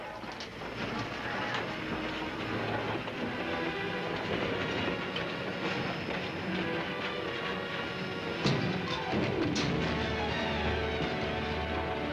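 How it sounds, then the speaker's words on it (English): A train rumbles steadily along the rails with rhythmic clattering and a broad low roar, close and continuous, with a brief metallic clank near the end. "When the train stops, I give the alarm."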